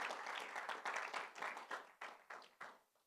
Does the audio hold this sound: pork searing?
no